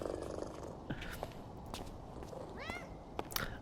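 A pet cat in PowerWash Simulator 2 purrs quietly and steadily, broken by a few soft chirps and a brief meow-like sweep near the end.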